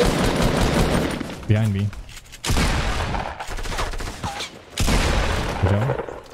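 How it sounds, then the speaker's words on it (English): Automatic gunfire in a Fortnite tournament match, repeated bursts of loud shots running through most of the clip while players talk over it. "There's another team shooting you?"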